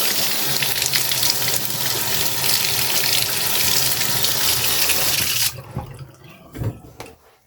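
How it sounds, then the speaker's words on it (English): A faucet runs in a strong, continuous rush of rinsing water into a sink for about five seconds, then cuts off, leaving a few faint drips and handling sounds. "Now let's rinse it off."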